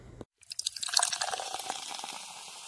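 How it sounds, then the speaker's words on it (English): Jack Daniels whiskey is poured into two shot glasses: a steady, close liquid stream runs for about two seconds after a brief pause, with small splashy bursts at the start. "I stood up and poured 2 shots of Jack Daniels."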